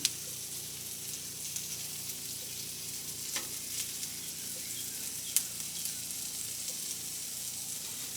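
Cajun-seasoned potatoes sizzle on a griddle at an off-grid cabin, a steady close frying hiss broken by a few sharp ticks and scrapes.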